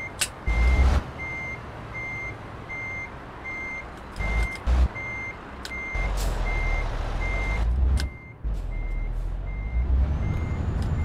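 Truck reversing alarm beeping in a steady, evenly spaced series of loud tones over a rumbling idling engine at a dock at night, with a few sharp clanks between the beeps.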